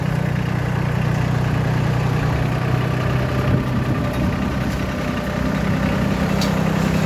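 A 2023 Solis 26 tractor engine idles steadily with a low, throbbing rumble. It is close and loud and keeps going without a break, with no voices.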